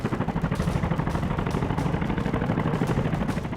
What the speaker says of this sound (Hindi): Number 9, Chinook helicopter.